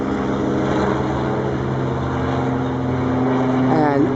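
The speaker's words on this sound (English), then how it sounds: "a helicopter is flying over the Arboretum." A helicopter passes over the San Francisco Botanical Gardens at Strybing Arboretum, its steady rotor drone filling the air loudly and continuously, with a rising whine near the end.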